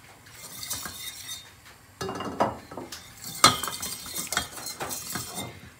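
A spoon stirs flour and oil in a pot for tomato soup, making intermittent metallic scrapes and clinks against the pot, close and fairly clear, with no talking.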